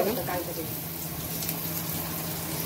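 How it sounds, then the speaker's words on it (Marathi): Onion and green chillies frying in oil for a seasoned vegetable dish give a steady, close hiss of sizzling, with a voice briefly audible at the start. "आपण मिरच्या टाकल्या आणि आता कांदा पण टाकते मम्मी"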